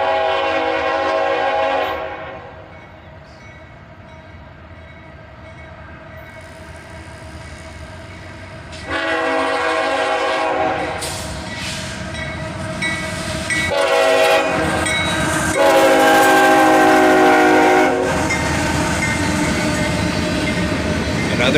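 A CSX freight train rolls past close by with a loud, sustained horn blast, followed by steady rumbling and clattering of railcars that swells and shifts as the cars pass.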